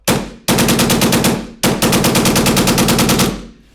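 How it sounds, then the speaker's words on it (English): A Valken M17 magfed paintball gun fires full auto in two rapid bursts, a loud, evenly spaced string of sharp pops up close, the second burst longer, with a short gap between and no speech. "So you get nice consistent recoil and full auto cycling, full auto style, without having any electronics in the gun."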